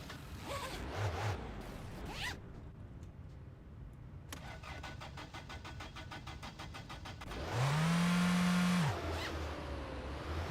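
In the video game My Winter Car, a car engine cranks and fires up after some quiet mechanical clicks and rustling, then settles into a short, steady idle-like hum with no talk.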